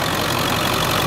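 A 2003 Ford F350 Super Duty Lariat with a 7.3 liter Powerstroke turbo diesel V8 idling, a steady, loud, continuous rumble close by with no voices.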